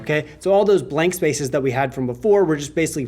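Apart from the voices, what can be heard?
No everyday noise stands out behind the speech.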